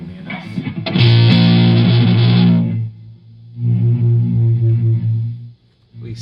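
A shoegaze guitar played through a reverb pedal gives loud, sustained, washed-out chords that fade. A second quieter swell follows, showing the pedal's volume drop, with no talking over it.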